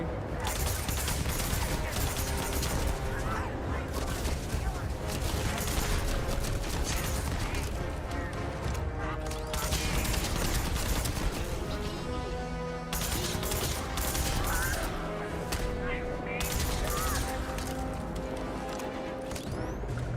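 Video game gunfire crackles in dense, repeated volleys with rapid overlapping shots and impacts, continuous and loud over a busy battle soundscape.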